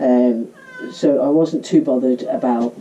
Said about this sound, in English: that's my cat who gets into every video I ever do